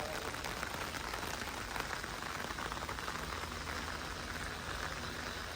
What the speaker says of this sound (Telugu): చూడండి సౌండ్ కూడా వస్తుంటుంది వాన సౌండ్